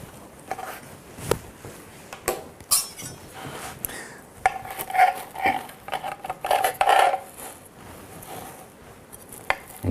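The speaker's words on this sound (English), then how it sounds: "let's just remove this from here, just by lifting it out very carefully making sure we don't burst them" Utensils clink, tap and scrape against a Waring deep fill sandwich maker as sandwiches are carefully lifted out, giving scattered light metallic knocks at an irregular pace, close and fairly quiet.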